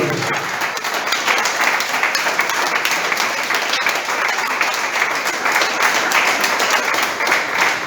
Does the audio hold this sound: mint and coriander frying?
no